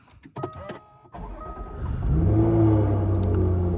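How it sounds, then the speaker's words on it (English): A Jaguar F-Type's supercharged V6 starts by push button: quiet clicks and a short whir from the cabin, then the engine catches and settles into a steady, fairly loud idle rumble. "there is the push button to start the supercharged V6"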